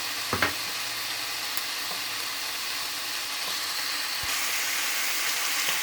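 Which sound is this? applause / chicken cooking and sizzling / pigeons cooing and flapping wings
chicken cooking and sizzling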